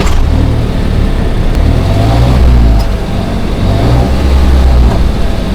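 A Geely Coolray's 1.5 liter three-cylinder engine revs through its quad tip exhaust, loud and close, the engine note rising and falling in repeated pulls with a throaty, rumbling low end and no talk.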